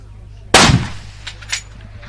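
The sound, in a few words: gunshots at a shooting competition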